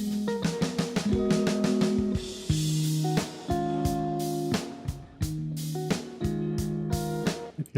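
Music played through a real spring reverb box, with plucked, rhythmic tonal notes and chords trailing into a soft, subtle reverberant tail, and no one speaking.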